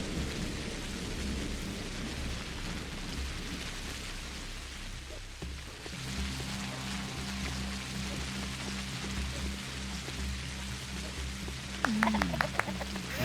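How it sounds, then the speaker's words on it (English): Steady rain with rolling thunder in the Pathologic video game, a continuous loud downpour with low rumbles throughout and a brief sharper burst near the end. "I like the sound of the rain in this game."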